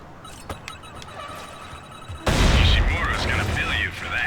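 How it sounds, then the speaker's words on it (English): A grenade goes off in the video game Tomb Raider: Legend, a sudden loud boom after a quieter stretch of game sounds, followed by a rumbling, crackling tail. "Let's try a grenade."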